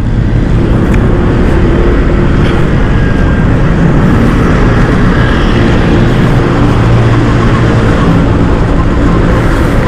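Dense city road traffic rumbles near the Bonifacio monument in Caloocan City during light rain, a loud, continuous low engine drone with passing vehicles and no break throughout.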